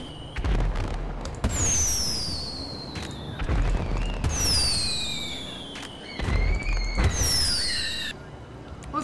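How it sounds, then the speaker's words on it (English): Fireworks in GTA 5 Online burst repeatedly, each launch a whistling rise followed by sharp cracking booms, several spaced volleys close and loud, with a faint voice briefly present. "look, someone got fireworks"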